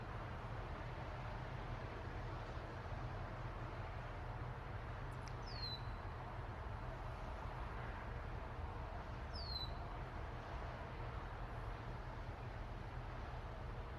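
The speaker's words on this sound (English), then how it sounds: "I can hear birds." Two faint, brief bird chirps come from a distance, several seconds apart, over a quiet, steady low hum.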